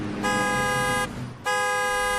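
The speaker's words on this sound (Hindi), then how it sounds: "सूरज ने हॉर्न दिया और आगे बढ़ गया।" Two long, loud blasts of a vehicle horn on a night road, the first about a second long, a short gap, then a second sustained blast, with a faint engine rumble beneath.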